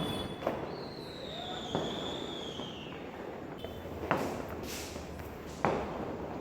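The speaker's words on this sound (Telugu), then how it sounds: "తర్వాత టపాకాయలు కూడా పిల్లలు కాల్చారు" Several sharp firecracker bangs go off at uneven intervals during Diwali celebrations, some distance away, while a faint whistling tone rises in the background.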